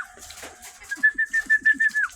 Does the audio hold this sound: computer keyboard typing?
no